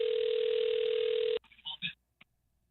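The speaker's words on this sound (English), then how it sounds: "It's ringing. Pick up your phone." A steady telephone ringback tone on a radio station call plays loud and alone, then cuts off abruptly into a few short clicks and faint sounds.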